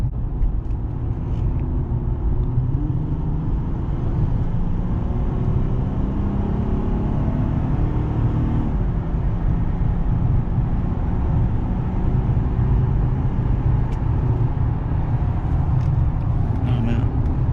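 Steady road and engine drone fills the cabin of a 2009 Honda Pilot Touring SUV cruising on the freeway at about 80 mph, continuous and close with no break.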